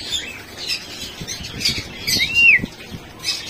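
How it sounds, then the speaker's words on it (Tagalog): Medium aviary birds, including ring-neck parrots, squawk in an aviary in Taytay. Several sharp, close calls ring out over soft background chatter and rustling, with one loud, rising screech near the end. "nandito yung mga medium bird nila, oh. Ayan, meron silang ring neck."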